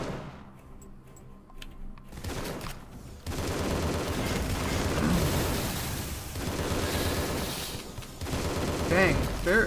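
Rapid bursts of weapon fire ring out in the game Tesla vs Lovecraft, loud and layered with booms as enemies swarm, while a player talks over the action.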